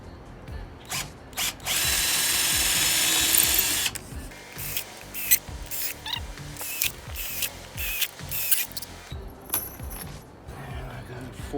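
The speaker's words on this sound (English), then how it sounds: "I'm going to pre-drill 4 holes through this so it doesn't split it." Power drill pre-drilling four holes through wood to fix a retractable patio door screen: one long steady whine of about two seconds, then several short bursts and clicks, close by, with no talk.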